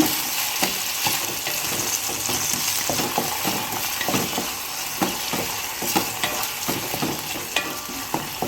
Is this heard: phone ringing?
no